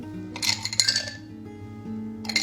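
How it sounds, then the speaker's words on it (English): Ice cubes clatter into a blender for a banana smoothie, a few clinking drops in quick succession, then one more a moment later, over soft background music. "Now add in your ice cubes."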